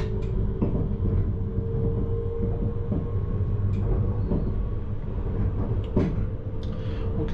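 Heard from the cab of a Siemens Desiro Classic electric multiple unit on the Bulgarian line near Lakatnik: a loud, steady rolling rumble as the train speeds up, with scattered rail-joint clicks and clunks.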